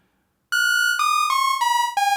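A Prophet 6 synthesizer on its init patch with out-of-tune oscillators, playing a sequence of five bright, buzzy tones that step downward in pitch, each beating and ringing in sustained succession.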